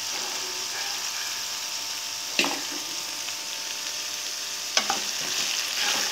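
Fresh curry leaves fry in hot oil for a broad bean curry, giving a continuous crackling sizzle interrupted by two sharp scrapes of a stirring spoon.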